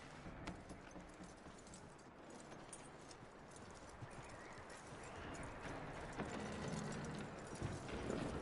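Steady hooves of a horse clip-clop at a walking pace in Red Dead Redemption 2, moderately close, over a continuous outdoor ambient wash with no talking.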